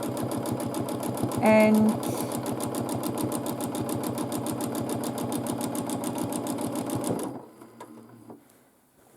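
A domestic sewing machine quilting a large quilt with a titanium-coated size 80–90 needle, running in a steady rapid stitching rhythm for about seven seconds before stopping, with a brief beep early on and a voice speaking briefly.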